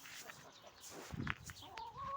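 Chickens and chicks cluck softly in a farmyard, with a brief burst of louder clucking near the middle and faint bird chirps around.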